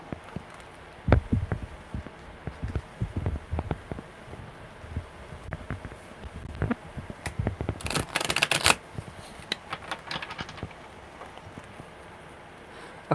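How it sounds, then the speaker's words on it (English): Tarot cards are shuffled by hand close to the mic in repeated bursts of soft riffling and slapping, with quieter pauses between and a louder, denser riffle near the end. "One more good shuffle."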